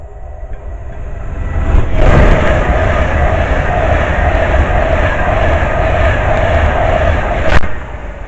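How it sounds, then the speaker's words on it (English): An Avanti class 390 train bound for Blackpool North rushes past North Wembley station on a windy day. Its loud, steady roar fills the whole stretch, swelling early on, with a brief sharp hiss near the end. "The next train passed by, it's going to be a Avanti 390 bound for Blackpool North."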